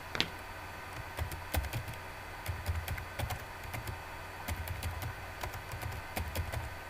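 Typing on a computer keyboard, with a steady run of close, crisp key clicks and a few heavier taps in an uneven rhythm, heard alone against a quiet background.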